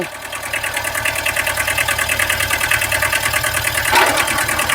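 A Kubota B7000 tractor engine runs steadily and loud with its rotary tiller PTO engaged in third gear at top speed, a dense rhythmic knocking drone that swells briefly near the end, with no talking.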